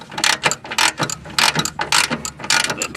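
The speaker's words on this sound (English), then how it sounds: "socket, 3/8 inch drive, ratchet drive." A 3/8-inch-drive ratchet with a 10mm socket turns a tight car horn bolt, giving close, loud bursts of rapid clicking in repeated strokes with brief pauses between them.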